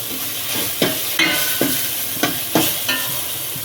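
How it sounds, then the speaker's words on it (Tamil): Mushroom gravy ingredients sautéing in a pan: a steady sizzle with repeated sharp scrapes of a spatula against the pan at an uneven rhythm, close and clear, with no talking. "இப்போ இது நல்லா வதங்கட்டும்"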